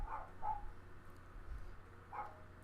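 Minecraft dogs giving faint short barks, three quick yips in a pair and then a single, distant and quiet over low background hum.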